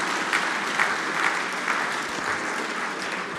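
An audience at the closing ceremony of the SWERC programming contest breaks into dense, sustained applause, a steady wash of many hands clapping at an even level with no clear voices.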